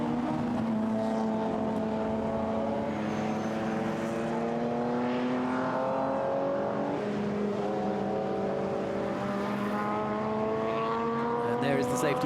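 BMW 325i and M3 GTR race cars circulating at Zandvoort behind the safety car, their engines forming a continuous droning whine with slowly sliding pitch, steady and moderately distant under a commentator's voice.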